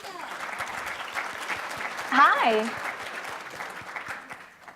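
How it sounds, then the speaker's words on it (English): Steady applause from an audience fills the clip, with a cheer and a short greeting rising briefly near the middle. "Everybody is clapping for you"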